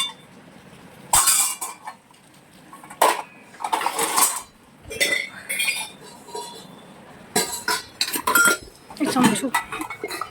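Brass utensils clinking and clattering as they are handled, bursts of bright metallic chinks and knocks spread irregularly through the clip, with people talking and laughing in between.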